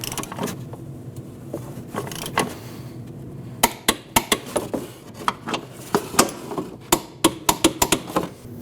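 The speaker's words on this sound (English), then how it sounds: "those get torqued down to 37 foot-pounds" A wrench works on the rear strut mount bolts of a 2014-2023 Jeep Cherokee, sparse metallic taps at first and then a quick run of sharp clicks, close and distinct with no talk.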